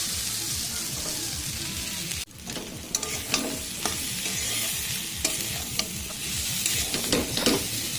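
Meat, soybean and egg curry stirred and fried in a pan: constant close sizzling with repeated scraping strokes of a spoon, plus a sharp clatter partway through, and nobody talking.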